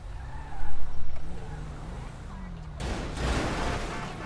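A car crash in GTA 5 on a road, with a loud low rumbling engine and scrape at first, then a sudden broad crunching impact burst that lingers as noisy debris and skidding rumble, with speech faintly present.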